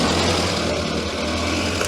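A scrapyard Morris Minor, unused for nine years, tries to start with no throttle, a steady rough engine or cranking drone, loud and close, running unbroken for a couple of seconds.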